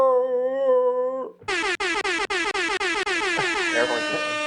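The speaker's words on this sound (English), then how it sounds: "Air horn." A loud truck-style air horn blasts, first as one sustained tone, then as a rapid series of short pulses that run into a longer blast, all heard on its own.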